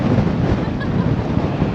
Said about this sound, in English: it is windy as all hell